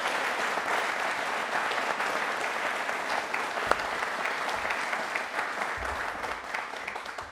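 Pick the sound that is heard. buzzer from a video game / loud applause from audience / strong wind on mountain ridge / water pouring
loud applause from audience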